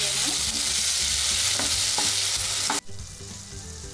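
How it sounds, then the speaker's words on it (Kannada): Three green chillies and a chopped tomato fry for a Kerala-style dry fish curry: a loud, close sizzle with stirring scrapes that suddenly drops to a quieter hiss near the end. "ಇದು ಇವಾಗ ಚೆನ್ನಾಗಿ ಫ್ರೈ ಮಾಡೋಣ."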